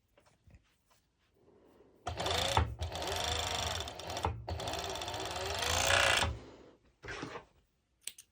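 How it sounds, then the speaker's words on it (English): A serger overlocks the back pieces of a cut-out pole dance top in a steady, loud, continuous run of about four seconds after a quieter start, with a short second burst near the end. "I'm going to do the same thing with my"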